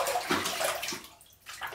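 Water running and splashing during a rinse after a second cleaning pass, a steady broadband wash that eases off near the end and then resumes.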